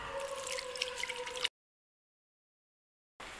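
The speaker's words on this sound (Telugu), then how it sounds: "ఇప్పుడు దీనికి తగిన నీళ్ళు పోసుకొని మనం ఉడకబెట్టుకుందాం" Water pours into a pot of washed lentils set to boil for pongal: a short burst of gurgling, dripping splashes for about a second and a half, then sudden silence before a faint return of room noise.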